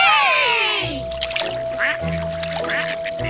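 Cartoon ducks quack in a few quick, bright bursts, close and clear. A falling whistle-like tone and a steady musical hum sit under them.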